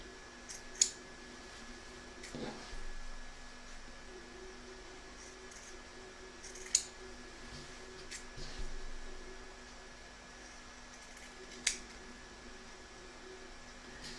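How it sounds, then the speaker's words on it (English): Scissors trim the fabric corners of a quilted cushion cover, three sharp snips spaced seconds apart over a low steady room hum. "I am going to trim across my corners here just to reduce the bulk"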